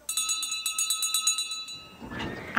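A bright bell rings repeatedly in a quick, even rhythm, clear and close, then stops and a short rustling noise follows.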